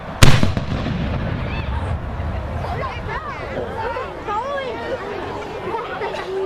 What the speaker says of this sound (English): So let's start with a cannon salute.